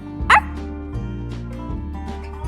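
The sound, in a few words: dog barking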